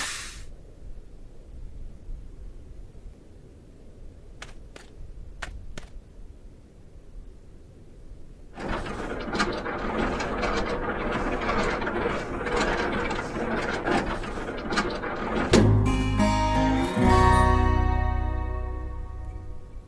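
A trailer support leg cranks upward in Alaskan Truck Simulator: after a few faint clicks, a steady ratcheting grind of gears runs for several seconds, closing with a heavier mechanical clunk and whirring.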